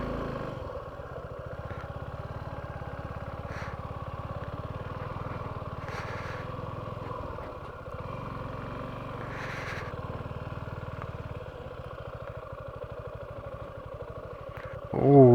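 A GS310 motorcycle rides along a hill road near Yercaud, its engine droning steadily with wind rumble beneath it, while someone speaks over the ride and a brief loud knock ends the stretch.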